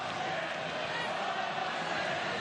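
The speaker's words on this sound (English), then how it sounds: "what's the crowd going on about now?" A steady wash of crowd noise fills the stands at a women's American football game in Australia, New South Wales Surge against Victoria Maidens, a constant distant murmur and roar with no distinct peaks.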